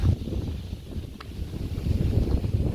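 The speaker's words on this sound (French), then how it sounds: "Le moteur 3 litres turbo diesel de Toyota." A 1996 Toyota Hiace 3-litre turbo diesel engine runs with a steady, close, low rumble under some wind noise, without letting up.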